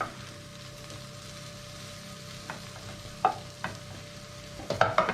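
Onions cooking in a pan for baked onion bhajis, a quiet sizzle with a few sharp wooden-spoon knocks and scrapes building toward the end, close by with no speech.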